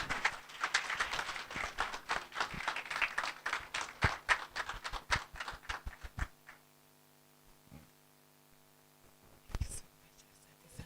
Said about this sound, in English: Please, let's stand up and clap.